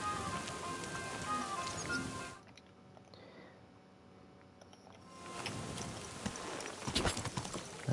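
A horse's hooves clip-clop steadily in the video game Kingdom Come: Deliverance II, then drop away for a quiet stretch before the clattering footsteps return louder, with sharp hits near the end.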